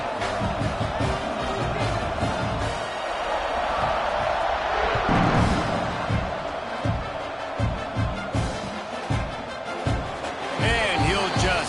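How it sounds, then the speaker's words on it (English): A stadium crowd at a football game keeps up a steady buzzing murmur after a score, with a commentator talking over it and occasional thumps. "this crowd is buzzing after that last score"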